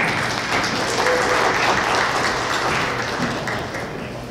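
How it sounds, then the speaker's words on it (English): Crowd applause fills the room at a tech conference presentation, a dense steady wash of clapping that holds and then slowly tapers off toward the end. "So let's give him a round of applause."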